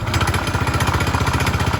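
A Manco Fox Conquest go-kart's small engine runs steadily close by, a rapid, even putter with a buzzy mechanical edge and no voices.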